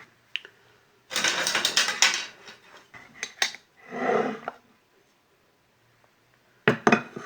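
A knife slices through a cooked Szechuan pepper steak on a board, producing a few bursts of clattering, scraping cuts separated by quiet gaps.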